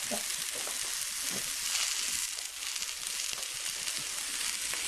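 Steady, crackling sizzle of food frying in a pan, close and continuous, with occasional soft scrapes or stirring sounds.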